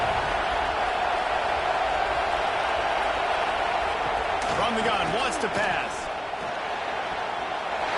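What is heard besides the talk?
stadium crowd noise at a football game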